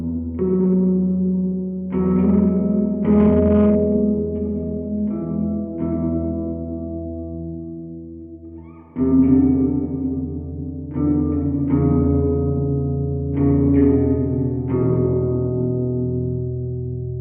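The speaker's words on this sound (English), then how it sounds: "Assign that to A, so we can just hear what our reverb sounds like." Electric guitar chords ring out through the reverb of a PolyEffects Beebo multi-effects pedal. Sustained strums each bloom and decay into a lingering wash, with a brief dip midway before a new chord strikes, and no voices.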